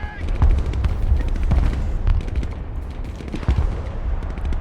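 Artillery and gunfire in the military strategy video game Broken Arrow: dense, rapid gunshots and bursts of machine-gun fire, with heavy booms rolling underneath, close and continuous, while a voice speaks faintly over the battle.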